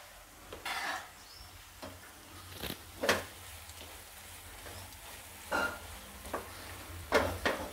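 Veg kolhapuri masala with red chili powder being sautéed in oil in a pan, a soft steady sizzle broken by several sharp scraping stirs of a spoon against the pan, fairly close and quiet.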